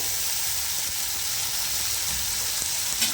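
A paste of ground coriander and green chili sizzles in a pan for a vegetarian tricoloured rice pulao, giving a steady, close, bright frying hiss throughout with a small clink near the end.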